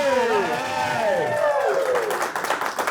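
A live studio audience at a rock and roll themed talk show claps and cheers loudly in a dense continuous roar, with a voice calling out over it that fades as the noise settles.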